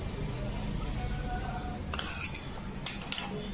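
Scissors cutting princess-cut blouse fabric give a few short, crisp snips close by in the last part, after a stretch of low room noise.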